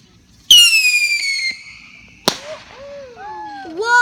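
A firework launches with a sharp bang and a whistling rise, then a second loud crack bursts overhead and fades into crackle, close and loud outdoors at a backyard firework show.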